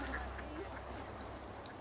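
Ducks quacking faintly in the distance, a few short scattered calls over a steady background hum, with no nearby voices.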